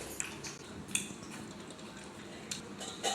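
A knife chops jackfruit in a home kitchen, giving a handful of faint, sparse taps and clicks against a low, steady room hush, with no talking.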